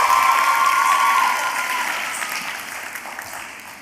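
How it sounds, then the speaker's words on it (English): Applause from an audience at a Bharatanatyam arangetram dance recital, a dense wash of clapping that starts full and gradually tapers off over a few seconds, with a faint vocal tone at the start. "One more round of applause"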